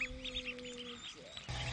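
Aigamo ducks in a rice paddy give soft quacks and short chirping calls, fairly faint and scattered over a quiet outdoor background.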